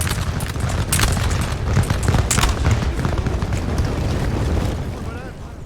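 Cannon fire in a Napoleon-era battle game in Egypt: a steady barrage of booms and rumbling volleys, with a few sharper reports standing out above the continuous low roar.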